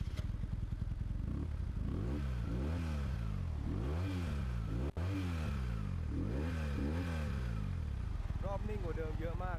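A car engine at idle is blipped again and again, each rev rising and falling in a steady rhythm, loud and close, with a voice talking over it.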